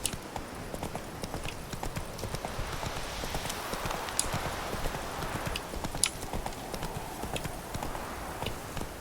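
Horse hooves clip-clopping in The Witcher 3 video game, a steady brisk run of hoofbeats close by, with light ambient game sounds behind them and no talking.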